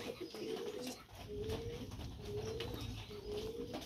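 Pigeons released from a pigeon loft coo softly in repeated low, throaty phrases while gathering to feed, with faint ambient background and no talk.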